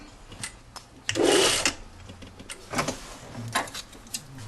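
A sewing machine stitching down a jacket pocket on a Brigand jacket, with short whirring runs and a louder burst of stitching, close up and without talk.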